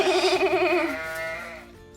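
A sheep bleats once, a loud wavering call that trails off over about two seconds, close and alone, amid a children's farm animal activity.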